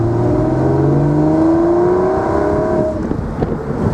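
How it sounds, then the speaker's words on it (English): A 2004 Porsche 911 996 C4S Cabriolet sports exhaust drones and rises in pitch as the engine revs through a gear of its 6-speed manual, loud and steady from inside the moving car. "Sports exhaust singing away nicely."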